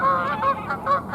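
A flock of geese honks repeatedly as they fly past close overhead, with loud overlapping calls in a quick, uneven rhythm and no talking.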